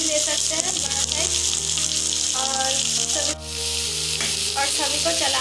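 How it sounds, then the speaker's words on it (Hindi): Finely chopped small onions and green chillies fry in a pan for a soybean and curd curry, a steady close sizzle with occasional stirring scrapes throughout. "प्याज को गोल्डन ब्राउन कलर का फ्राई कर लेंगे"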